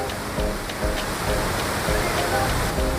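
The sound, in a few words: waterfall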